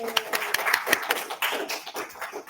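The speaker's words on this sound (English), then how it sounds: "Big round of applause" A burst of clapping from a small crowd at a user group meeting, scattered sharp claps overlapping at close range for a couple of seconds.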